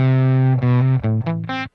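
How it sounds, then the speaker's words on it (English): An electric guitar through a BandLab amplifier effect with distortion plays a few crunchy, grungy sustained chords and short stabs, loud and close, then cuts off abruptly. "It's definitely a little more distorted, it's a little more crunchy and grungy."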